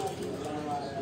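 Breeder pigeons belonging to someone of Kasur give a soft, brief coo close by, partly under someone talking.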